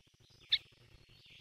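A single short tweet from a bird in the game A Bird Story, standing alone against a quiet, faintly humming background.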